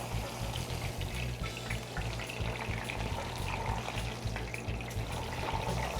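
Tilapia frying in oil in a pan, a steady close sizzle with faint stirring and liquid crackle throughout as the fish is turned, no talking.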